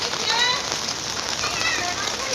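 Heavy rain pours down at night in Kalyan, a dense, steady hiss of drops striking surfaces close by, continuous and unbroken throughout.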